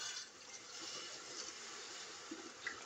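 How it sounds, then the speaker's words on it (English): Water pouring into a cooking pot of mince sauce for spaghetti, a faint continuous splashing rush heard alone and fairly quiet. "I'll put a little water in now."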